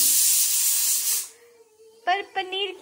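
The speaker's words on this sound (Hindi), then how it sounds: "मैं फटाफट से तड़का लगाती हूँ फिर आपको दिखाती हूँ।" Tempering spices sizzle and hiss loudly in hot oil in a home kitchen, a dense steady crackle that cuts off after about a second, followed by a voice talking.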